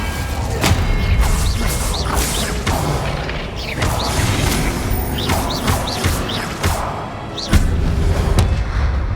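The Confringo explosive spell goes off repeatedly in Hogwarts Legacy, heavy booms and crashes with whooshing casts piling up in a dense, loud stretch of combat.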